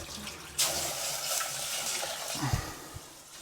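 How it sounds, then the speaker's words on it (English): Water is poured from a tap into a pot of toasted quinoa, beginning as a sudden rushing splash and continuing as a steady close gurgle with a few soft knocks. "So now you kind of just add water and cook it like rice, really."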